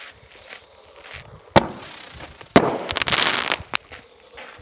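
Black Box Artillery fireworks shells at a display in Goldfield, Nevada, with a sharp single burst followed by a dense crackling barrage and a final pop, heard outdoors at a moderate distance.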